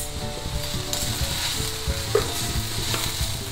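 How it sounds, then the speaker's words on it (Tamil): Mint leaves sizzle and fry in a pan while being stirred for a mint thuvaiyal, a steady close crackle with scraping stir sounds throughout. "பாருங்கள் புதினாவும் வதங்கெடுத்து நம்ம வந்து ஆஃப் பண்ணிடலாம்."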